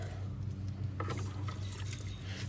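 A wheel-cleaning brush plunges into a bucket of water, a short sloshing splash and gurgle over a constant low hum, with no talking.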